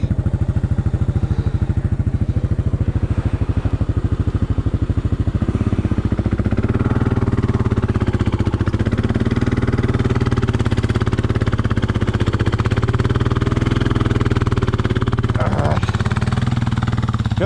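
A Honda Monkey motorcycle engine runs in first gear, a steady close clattering mid-pitched drone that swells slightly as it pulls away, with people talking over it.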